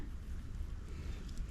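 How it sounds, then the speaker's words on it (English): Low, blustery wind buffets steadily, a rumbling rush with no voices. "Nice day. It's a little windy."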